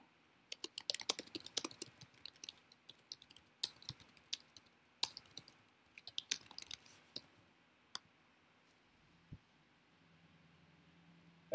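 Computer keyboard typing up close, quick irregular clusters of key clicks with short pauses, then silence and a faint low hum at the end.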